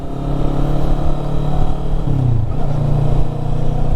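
A motorcycle engine runs steadily and loud on a test ride, with a droning tone that dips and shifts as the rider changes speed, over constant wind and road noise.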